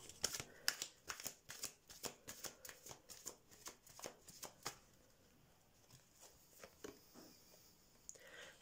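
Tarot cards being shuffled by hand at close range, a rapid run of crisp riffling flicks and slaps that slows into scattered softer taps toward the end, with no talking.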